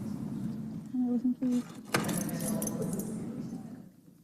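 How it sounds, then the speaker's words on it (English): Keys left on a council meeting podium jangle in a few quick bursts, followed by a sharp clink, with room murmur and a voice around them. "Somebody left their keys up here."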